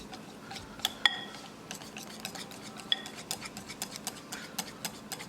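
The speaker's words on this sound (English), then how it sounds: "Now we're going to mix the baking powder and same rotation, keep it in one rotation and mix it well." Dhokla batter being mixed with baking powder in a bowl, giving soft repeated scrapes and light clinks of a utensil against the bowl, fairly faint and close, with no talking.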